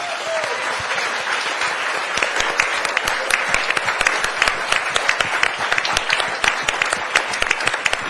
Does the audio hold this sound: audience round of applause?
yes